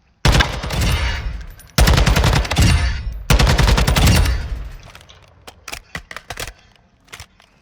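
SCAR Tactique Verte rifle fire in Modern Warfare 2: three loud, sustained bursts of rapid automatic shots, followed by a scatter of quieter single shots and clicks.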